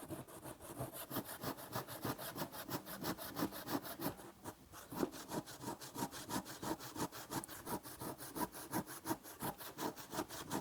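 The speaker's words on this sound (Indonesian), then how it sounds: "Ini adalah kayu meranti, balok meranti, kita akan coba potong." A freshly sharpened manual hand saw cuts through a meranti wood beam in steady, rapid back-and-forth strokes, each rasping stroke clear and close, continuing evenly with no talking.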